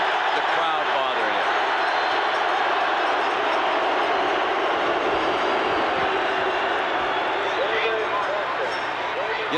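A stadium crowd at a 1987 Nebraska Cornhuskers versus Oklahoma Sooners college football game, a loud constant roar filling the whole stretch without a break, with commentators talking over it.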